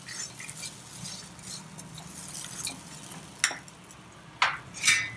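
Utensil stirring and mixing sevai rice noodles with sautéed ingredients in a pan, soft continuous scraping and clinking of metal against cookware with a few sharper clinks near the end, no talking.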